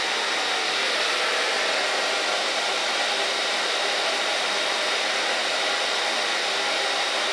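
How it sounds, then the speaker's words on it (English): A hair dryer blows steadily and loudly at close range while drying curly hair, a constant airy roar with no pauses. "It's a wonderful dryer."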